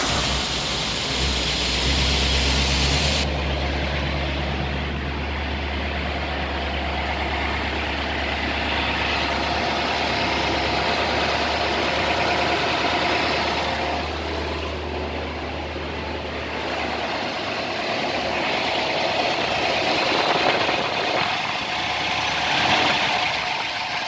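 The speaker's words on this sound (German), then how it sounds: "So, und jetzt werde ich den mal starten." A 1955 Ford Thunderbird on its original 6-volt system, a hard starter, turns over and settles into a steady, slightly fast idle on its fast-idle setting. The engine drones loud and close throughout with no talking.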